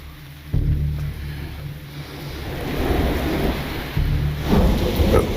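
Heavy rain pours down in a steady roar, with deep rumbling thunder swelling in low booms partway through and again near the end, loud and close with no talking.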